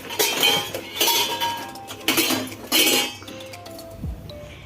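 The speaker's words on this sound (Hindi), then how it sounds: "ये बर्तन है।" Dishes, pots and cutlery clink repeatedly in a home kitchen, with bright metallic and glassy knocks arriving in bursts of clatter, close and fairly loud, with no talking.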